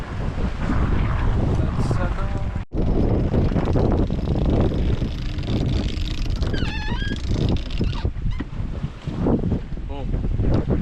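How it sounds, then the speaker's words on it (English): Sails are switched over on a sailboat during an ocean passage toward Madeira, amid strong wind buffeting, rushing water and flapping canvas, with a few faint whistles and a voice speaking briefly. "just changing the sails over the other way around"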